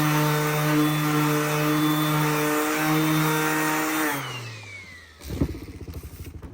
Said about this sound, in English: So that's a 180 on a DeWalt sander.